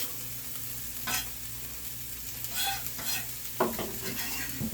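Steady sizzling of shallots frying in hot olive oil, with occasional stirring scrapes and clinks against the pan.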